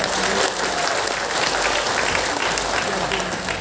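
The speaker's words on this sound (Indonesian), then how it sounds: "tepuk tangan untuk Pak Pangdam" Audience applause at an agricultural extension and farmers' gathering in Aceh, a dense, steady wash of many hands clapping together for a few seconds, moderately loud and filling the room.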